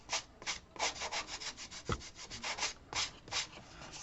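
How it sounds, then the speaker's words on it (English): Wooden pieces for an accordion album being hand-sanded, a steady series of rough back-and-forth rubbing strokes, close and fairly quiet, with no voices. "let me sand this off and make it just"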